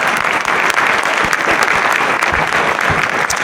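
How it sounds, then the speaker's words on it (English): A school winter band concert audience claps loudly and steadily for the band, a dense continuous round of applause from a nearby crowd. "Give them a round of applause for doing that."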